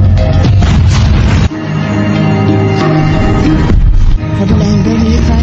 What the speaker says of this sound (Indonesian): mahkota tetap melancarkan serangan meriam